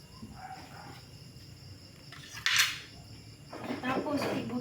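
Cutlery and dishes clinking while food is put onto a plate, quiet scattered taps with one sharper clink midway, then a burst of scraping and rattling near the end over a faint background.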